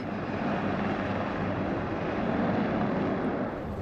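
Steady, loud roar of a Bell UH-1Y helicopter's four-bladed rotor and turbine engines, continuous and close, with no talking.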